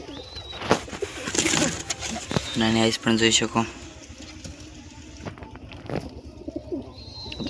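Newly acquired pigeons, wild-looking but domestic, coo nearby with throaty rolling calls in bursts, heard under someone talking, with a brief flutter of wings.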